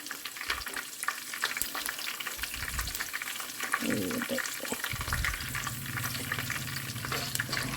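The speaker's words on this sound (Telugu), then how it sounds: "పల్లీలు ఫ్రై అయినాయి ఇక పుట్నాలు కూడా ఎక్కువ టైం ఏం తీసుకోదు ఇప్పుడు కరివేపాకు కూడా వేసేద్దాం" Peanuts and curry leaves crackle and sizzle in hot oil in a pan, with steady frying hiss, occasional stirring scrapes and a louder burst as the leaves go in.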